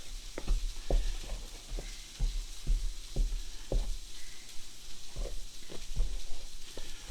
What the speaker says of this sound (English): I want to make sure I'm stirring this enough to blend all that together